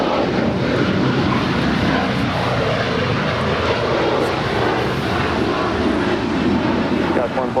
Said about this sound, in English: That would be Western Global Airlines, I believe, departing to Hong Kong.